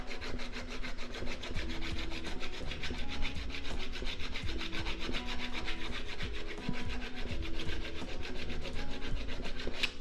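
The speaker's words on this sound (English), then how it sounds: "slowly you want to grind a flat spot into the shaft" A flat spot is ground into the metal shaft of an FTX Vantage RC car during a gearing conversion, giving a steady, continuous rasping grind that runs without a break for about ten seconds, close and fairly loud, with no voices.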